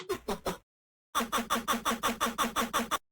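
Cat chirp sample run through an Effector bit crusher: a short group of three gritty, crunchy chirps, a pause, then a fast even train of about ten distorted chirps, loud and alone.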